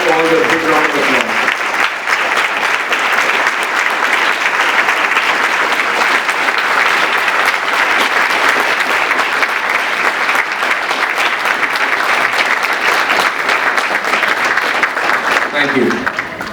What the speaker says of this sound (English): Let's give all a big round of applause.